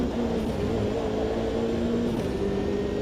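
A race car engine in the Automobilista 2 racing game, a steady droning whine held at moderate volume throughout with no talk.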